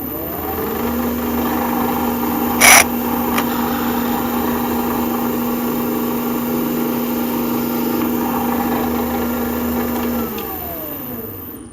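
A close, steady electric drill whirs as it pushes into the soft piston cushion of an SU carburettor, holding an even pitch throughout, with a brief louder scrape early on.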